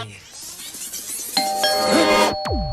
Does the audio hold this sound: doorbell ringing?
yes